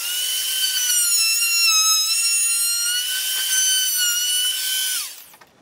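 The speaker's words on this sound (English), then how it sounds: "Now I'm going to take a little router edge around here." A wood router runs with a steady, high, tonal whine as it rounds over the edge of a wooden knife holder. It is loud and alone for about five seconds, then spins down and stops.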